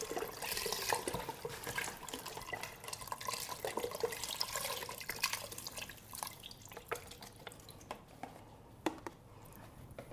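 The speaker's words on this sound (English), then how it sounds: "Pour it all in there." Four cups of chicken broth poured into an Instant Pot, a continuous liquid splashing and trickling that is strongest at first and thins into scattered drips near the end, with no talk.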